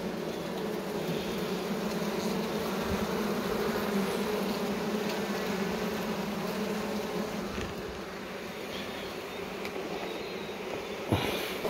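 Honeybees hum steadily around an open hive, a dense, close buzzing that carries on without break, with a brief soft knock near the end.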